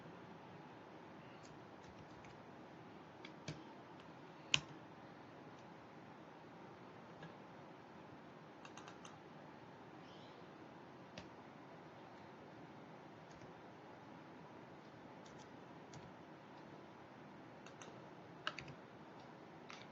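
Faint typing on a computer keyboard in a quiet room, a few scattered key clicks over a steady low hiss, with no voices.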